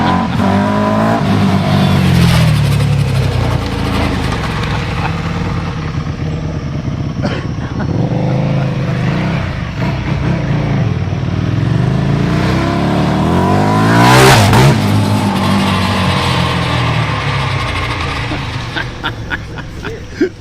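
A loud motorcycle engine with its catalytic converter removed revs hard, its pitch climbing and dropping repeatedly as the throttle opens and closes, close by and continuous.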